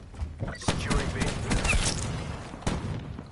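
Light shotgun fire in the Black Ops 4 video game sounds as a few heavy, booming blasts and thuds over a continuous noisy game mix, loud and close.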